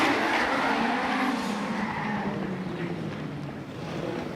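A drift car in a D1NZ pro competition at Tauranga slides along a concrete wall, loud continuous tire squeal and engine roar close by that slowly fade a little as the car passes.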